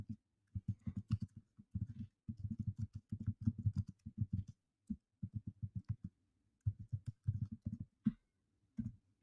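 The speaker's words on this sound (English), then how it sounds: "Also, I do apologize for the loud keyboard here." A loud computer keyboard is typed on a wooden table in fast bursts of clattering keystrokes separated by short pauses, close to the mic and with no voices.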